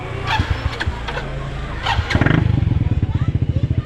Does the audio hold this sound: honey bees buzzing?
no